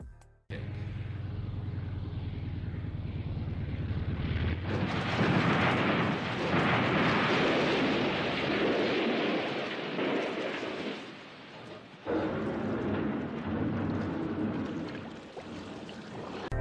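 A seaplane lands too fast and crashes: a loud, broad rush of noise bursts in after a quieter engine hum, roaring and churning like water spray, then briefly dips before surging again.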